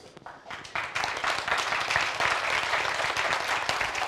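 Lecture audience clapping for the speaker, a dense patter of many hands that swells after a soft start and holds steady.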